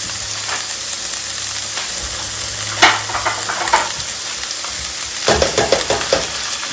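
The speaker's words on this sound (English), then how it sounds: "So this first step is just browning this, getting the meat all browned up here." Ground meat browning in a pan over medium-high heat, a steady close sizzle with scattered scraping stir strokes and bursts of spatula activity, no speech.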